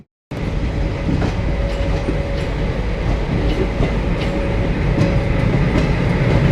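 An ALCO diesel locomotive hauls a train past a station with a foot overbridge, a steady loud rumble with a low engine drone and wheel clatter continuing throughout after a brief silent start.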